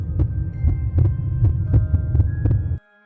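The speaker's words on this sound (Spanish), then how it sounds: "donde quiera que haya algún peligro, se me aceleran los latidos del corazón." A racing heartbeat sound effect thumps in a fast, regular double-beat rhythm, deep and loud against a low steady hum, about a dozen beats before cutting off abruptly into silence.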